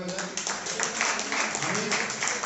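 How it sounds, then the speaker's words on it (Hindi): A church congregation claps in praise of Jesus Christ, a brisk, fairly quiet patter of many hands with voices mixed in beneath. "आइए यीशु मसीह ने वापस तालियां बजाएं"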